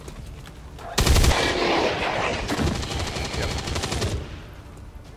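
XCOM 2 rifle fire erupts suddenly into a loud, sustained rapid burst of shots lasting about three seconds before trailing off, with a brief word spoken over it.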